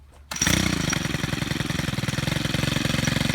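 A small gas-powered lawn equipment engine, pull-started with the choke on, catches after a brief quiet moment and settles into a loud, steady, rapid sputtering run close by.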